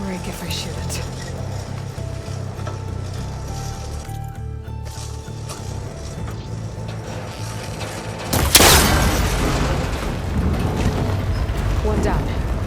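Gunshot and a sharp break as a cable connector on an ancient, rickety tower snaps in Horizon Forbidden West, a sudden loud burst rising over steady game ambience and music, then a rumbling, crackling tail.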